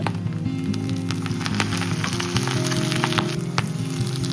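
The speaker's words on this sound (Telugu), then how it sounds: "ఇప్పుడు మనం చిల్లీస్ యాడ్ చేసుకుందాం ఇవంతా బాగా ఫ్రై అయిన తర్వాత పాలక్ యాడ్ చేసుకోవాలి" Chillies fry in a pan for spinach egg fried rice, sending up a continuous close crackling sizzle with scattered sharp pops, steady and fairly loud with no one speaking.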